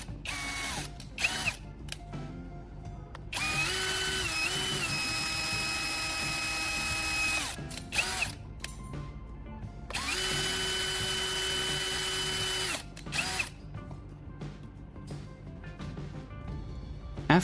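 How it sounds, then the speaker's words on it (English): A power drill bores holes into the plastic casing of a phone charger, running in two long whining bursts with short stop-start blips and clicks between them, close by but fairly quiet. "I'm repeating the drilling process on the opposite side of the casing, following the marks I made earlier."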